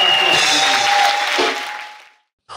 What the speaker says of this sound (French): Acclamation à ce Jésus.